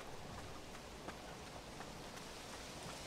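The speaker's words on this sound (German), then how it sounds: "Ist ja innen drin auch recht gruselig, so ein Gewitter." Steady heavy rain from a thunderstorm in the video game Pineview Drive, a dense constant hiss with faint drop patter throughout and no talking.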